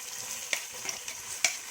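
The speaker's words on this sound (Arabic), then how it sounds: "يلا ننزل بقى بالبصل على السمنه والزيت" Onions fry in a mix of ghee and oil, giving a soft, steady sizzle up close, with a couple of light spoon taps against the pot.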